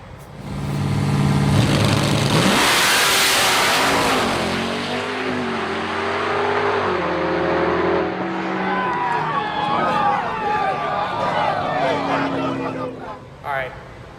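A loud Dodge Hellcat engine roars and revs hard as it accelerates away in a drag race, the drone shifting pitch and fading slightly into the distance.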